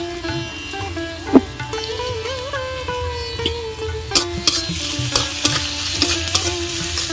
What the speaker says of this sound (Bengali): এবার আমি একটু নেড়ে চেড়ে ভেজে নেবো পেঁয়াজ আর কাঁচা লঙ্কাটাকে।